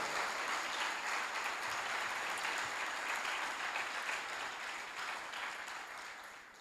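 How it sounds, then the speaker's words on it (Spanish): A church congregation applauds in a continuous, even roar of clapping that slowly fades toward the end, with no voices over it. "Si le va a aplaudir, apláudale de verdad"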